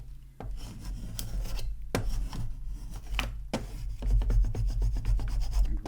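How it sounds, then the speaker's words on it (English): A scraper tool is rubbed firmly across Cricut vinyl on transfer tape, producing repeated close, raspy scraping strokes with short sharp clicks between passes and no speech. "I'm gonna take my scraper tool, come in from the middle"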